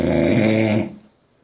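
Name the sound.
man snoring during a podcast recording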